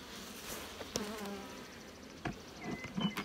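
Honey bees buzz around an opened hive during cold spring brood nest work, a faint steady drone with a few louder wingbeat passes close by and scattered handling clicks, no talking.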